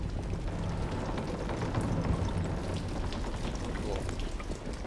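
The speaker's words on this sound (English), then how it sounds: "And it's raining" Steady rain hisses in the game Little Nightmares II, a dense continuous wash of falling drops at low level with no clear voice over it.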